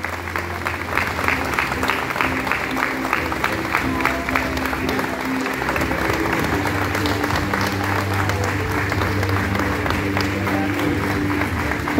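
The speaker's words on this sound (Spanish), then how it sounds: "Fuerte el aplauso para ella." A crowd at a recognition ceremony in Villa Santa Rosa gives sustained applause to a former council secretary. Dense clapping runs unbroken throughout, with faint crowd murmur underneath.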